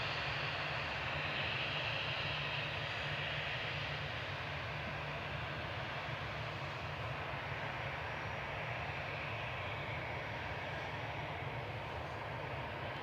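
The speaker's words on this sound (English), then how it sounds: "EasyJet's heading back to Malaga with flight 7002. This is OE-LQE," An easyJet Airbus A319, registration OE-LQE, departs Manchester Airport for Malaga, its engines making a steady broadband roar that holds loud and continuous throughout with no voices.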